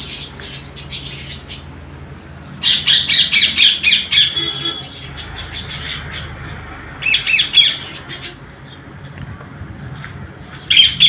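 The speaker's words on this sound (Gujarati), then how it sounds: "આપણા ચકલા બહુ મસ્ત મજાના ઉડી રહ્યા છે" Pet budgerigars chirp and squawk in bursts of bright, shrill chatter close by, with quieter pauses between and faint wing flutters as they fly about.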